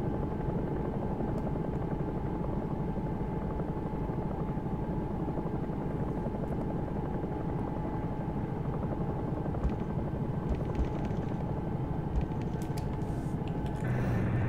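A Bell 222 helicopter in the X-Plane 11 flight simulator lifts off with a steady, loud rotor and turbine roar that fills the whole stretch without a break, close and continuous, with no voices over it.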